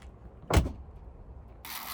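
A car door shuts with one firm thud, followed moments later by a broadband whirring rush, heard outdoors on an overcast day in Alaska with no speech.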